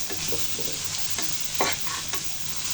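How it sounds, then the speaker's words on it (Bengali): Spice paste with turmeric and dry chili powder is stir-fried in a pan, giving a constant close sizzle with a few quick scraping strokes of a spatula. "শুকনো মরিচের গুঁড়া দিয়ে ভালো করে কষিয়ে নিব"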